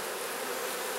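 Honey bees hum in a dense, steady buzz at an open beehive, close and continuous with no pauses or voices.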